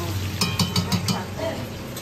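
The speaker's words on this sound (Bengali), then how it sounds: "এখানে আলু ভাজা হচ্ছে আজকে মেনু" Potatoes fry in a pan with a steady sizzle, while a few quick rhythmic scraping stirs land close up in the first second.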